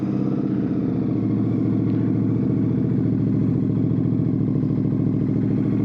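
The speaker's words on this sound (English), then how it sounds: "That is the engine idling." A Royal Enfield Bear 650 with a Red Rooster performance exhaust idles close by, a steady loud low throb with an even pulsing beat and no talk over it.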